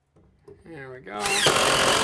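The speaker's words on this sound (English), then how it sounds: "So let's drill our 4 corners now." A power drill bores the four corners of a cut-out in a shed-building job, loud broadband whirring that ramps up and runs steadily to the end, with a voice heard briefly before it starts.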